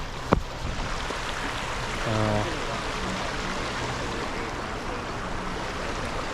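A creek swollen after rain rushes steadily across a gravel trail crossing, a continuous broad water roar heard close up, with a brief knock near the start and a short low tone partway through.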